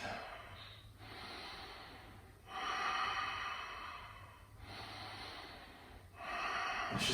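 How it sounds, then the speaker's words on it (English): Slow, deep breaths taken during a hamstrings-and-hips yoga flow in triangle pose, with long airy inhales and exhales alternating in about three unhurried cycles, close and audible alone without talk. "Let's just take 2 more slow, deep breaths here."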